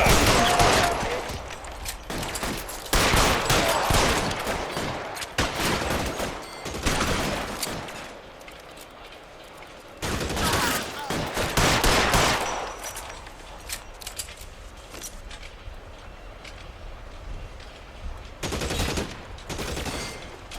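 Repeated bursts of .45 pistol gunfire in the detective game L.A. Noire, loud sharp shots in clusters separated by short pauses, with other gunfire mixed in.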